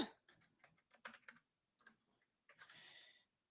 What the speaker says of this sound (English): You guys, the typing.